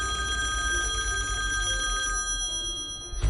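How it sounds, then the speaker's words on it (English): Telephone rings with a sustained electronic ringtone: bright, steady tones, fairly faint, that stop near the end before a short bump, with no talk. "That's my phone ringing."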